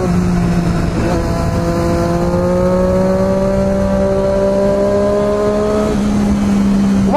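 A 2014 Triumph Daytona 675 R motorcycle engine accelerating, its loud steady whine climbing in pitch through a gear before settling, heard close and continuous.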